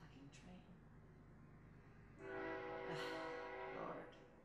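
Train passing outside a home, a distant rumble with a long sustained horn blast rising midway and holding for a couple of seconds, muffled through walls.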